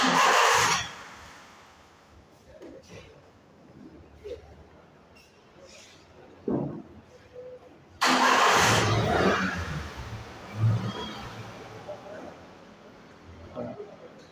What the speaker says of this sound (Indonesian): Kunci kontak on, terus starter.